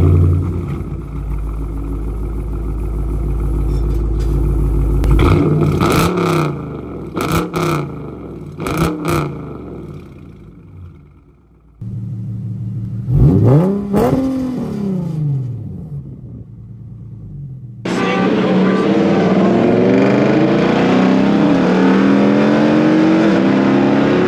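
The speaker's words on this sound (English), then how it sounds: "you want to give a quick rev just so we can hear what the car sounds like, and then I'll give a rev" An Infiniti G37 and a Dodge Charger R/T rev their engines in turn, loud, close bursts of throttle rising and falling, with a steady idle rumble between them and a sustained higher-pitched rev near the end.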